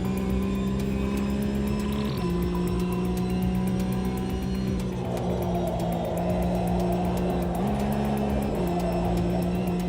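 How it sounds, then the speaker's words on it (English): Race car engine droning steadily at high revs while driving, with tyres struggling for grip on a slippery track, loud and continuous with small shifts in pitch and no talk. "the tyres are struggling now"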